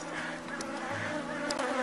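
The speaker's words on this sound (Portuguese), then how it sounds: "uma abelha que não é agressiva" Honey bees buzz in a steady, close droning hum while a beekeeper opens the hive to split the colony, with no talking over the sound.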